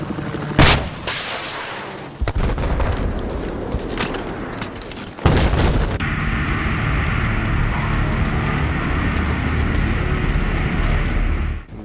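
Battlefield 4 combat: loud bursts of gunfire and sharp explosions give way to a steady, dense roar of an enemy helicopter, close and intense throughout.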